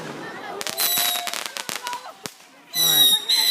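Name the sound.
fireworks shooting up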